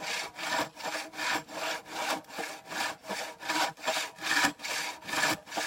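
A hand saw cutting through spongy wood still covered in bark, making regular back-and-forth rasping strokes at a steady rhythm of roughly two per second, close and moderately loud with no talking.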